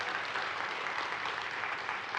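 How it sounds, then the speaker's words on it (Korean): Church congregation at a Sunday worship service applauding to welcome visiting parents of a pastor's wife, a steady dense wash of many hands clapping at once, moderately loud and sustained without a break. "우리 박수로 우리 환영할까요?"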